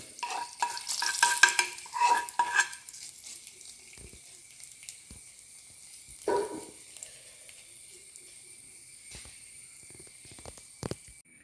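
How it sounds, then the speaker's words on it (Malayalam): Dried red chillies and curry leaves tossed into hot oil for inji puli, a crackling sizzle and spoon scrapes early on that fade to a quiet pan, with a few isolated taps and one later burst of sizzle. "ഇതിലേക്ക് നമുക്ക് ഈ വറ്റൽമുളക് ചേർത്ത് കൊടുക്കാം. ഒപ്പം ഈ കറിവേപ്പിലയും കൂടെ ചേർത്ത് കൊടുക്കാം."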